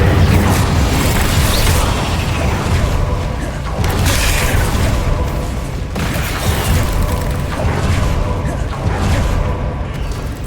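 The Incendio fire spell roars out in Hogwarts Legacy combat as a loud, sustained rush of blasting flame and booming impacts, dense and continuous throughout with periodic swells.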